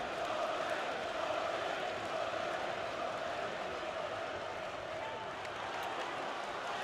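A boxing arena crowd cheers and roars for George Groves during his fight with James DeGale, a broad steady wash of distant voices sustained throughout beneath a ringside commentator's voice.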